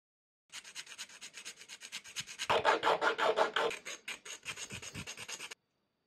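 Rasping file strokes on a small plastic part of a post-apocalyptic tabletop car miniature, a steady series of short scraping passes that grows louder and denser in the middle, close and alone with no talk.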